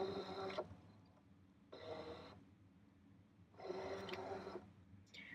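Faint mechanical whirring from a craft cutting machine as a cutting mat is loaded for scanning, three short motor bursts with quiet gaps between them, heard close and alone.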